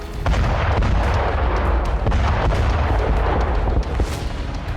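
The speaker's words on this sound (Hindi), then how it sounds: "जबरदस्त धमाके की वजह से पूरा इलाका ध्वस्त हो गया।" Loud, continuous rumbling blasts and booming from an aircraft missile strike on a field camp where troops had gathered, dense low-frequency roar with sharp cracks throughout, no voices.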